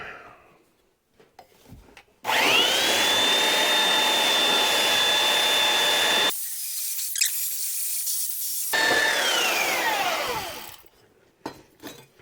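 Belt sander with a 4-inch belt shaping an ironwood axe handle by hand, heard as two loud, sustained whirring runs separated by a short quieter pause, with a whining tone that rises as the motor spins up and falls as it winds down.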